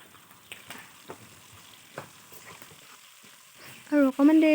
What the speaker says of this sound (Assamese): এইফালে মই দি দিলোঁ মাংসখিনি, এতিয়া লৰাই অকণমান ভাজি ল'ম